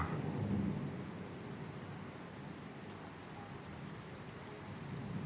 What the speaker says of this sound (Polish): jedna burza, ein Gewitter